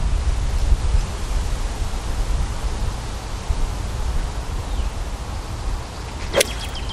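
Strong, gusting wind of about 45 to 50 km/h on an open golf course with thick wet grass, a dense steady roar buffeting the microphone, close and loud, with a brief whooshing swish near the end.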